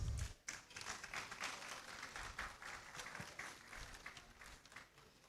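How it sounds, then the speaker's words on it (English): Applause from a seated audience at a lecture event on fisheries, a steady spread of clapping that runs for about five seconds at modest, slightly distant level after a brief low thump at the start. "Let's applaud him whilst he takes his seat"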